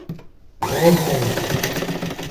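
Sewing machine starting up after a brief silence and stitching a quarter-inch seam along blouse neckline piping, a close, steady motor whir with no voices.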